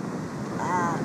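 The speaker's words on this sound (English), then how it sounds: "the wind!" Strong wind buffets the microphone outdoors during a storm, a steady broadband roar lasting about a second that rises slightly toward the end.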